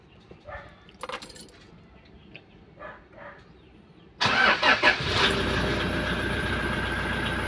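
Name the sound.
Toyota Fortuner 2KD diesel engine starting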